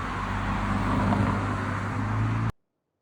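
Road traffic on Harvey Road in the Ardens, a high-speed, high-volume roadway, makes a steady, loud rumble and hiss of passing vehicles under a low hum, then cuts off abruptly near the end.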